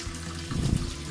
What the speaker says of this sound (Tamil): இப்பயே எடுத்து எடுத்து அலசி அலசி வச்சுக்கலாம்.